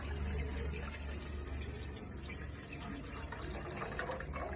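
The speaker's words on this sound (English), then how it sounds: "Take a small vessel and pour some water for boiling." Water is poured from a tap into a small vessel for boiling in a home kitchen, a steady running splash throughout with no talking.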